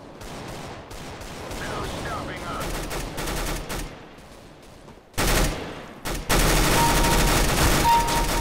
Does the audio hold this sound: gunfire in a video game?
yes